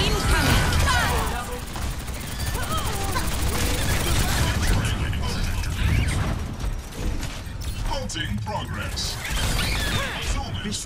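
A dense rocket barrage in a team shooter video game: a continuous stream of rapid explosive blasts, crashes and mechanical clatter, loud and chaotic throughout with shifting layers of impacts.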